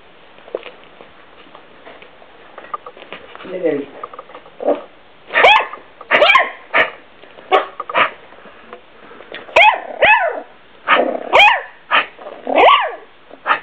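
A paralyzed puppy lets out its first barks: a series of short, close yips and barks, some in quick pairs, separated by quiet pauses.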